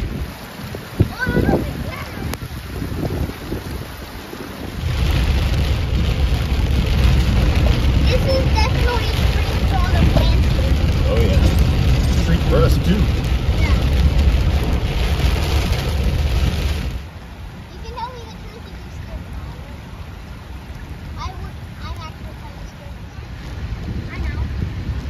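A severe monsoon thunderstorm in Southern Arizona blasts the microphone with roaring wind and rain. The noise swells to a heavy, sustained rush for about twelve seconds, then drops back to a lighter gusting, with voices at times.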